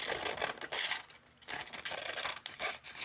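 Thin tracing paper, like old onion skin paper, being handled and rubbed up close in short crisp rustling bursts separated by brief pauses, with no voices.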